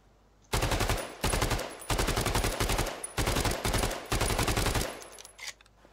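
Automatic gunfire from guns in the video game Battalion 1944 rips out in five loud, close, rapid bursts separated by brief pauses, with no talking.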